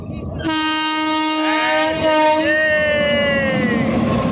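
A train passing nearby sounds a loud, sustained horn that holds for several seconds and shifts slightly in pitch, over a rumbling rail roar, recorded close up.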